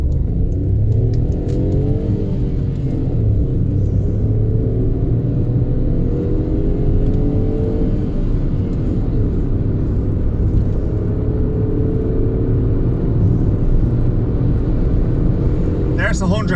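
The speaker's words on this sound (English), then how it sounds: "God, the noise of that engine is horrible." The 1.0-litre MPI engine of a 2015 third-generation Skoda Fabia drones and strains as it accelerates hard, a loud steady rumble with rising pitch, heard from inside the cabin.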